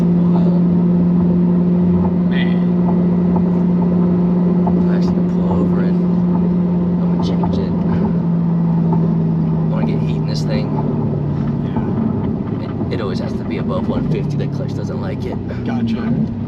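A 1500-horsepower twin-turbo C8 Corvette drones loudly and steadily from inside the cabin, its engine and turbos holding a low, sustained roar with faint whistling on top while people talk over it.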